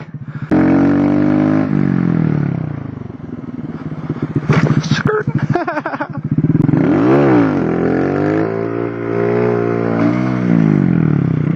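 A Honda Grom motorcycle during wheelie practice, its engine loud and close, revving up and down in repeated rising and falling sweeps, with brief clattering and scraping noises between the revs.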